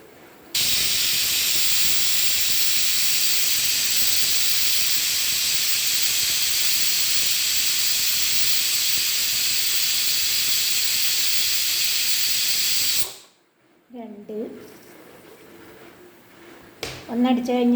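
A pressure cooker whistles while cooking fenugreek rice porridge, a loud continuous steam hiss blasting for about twelve seconds before cutting off abruptly, followed by quieter kitchen sounds and brief talk.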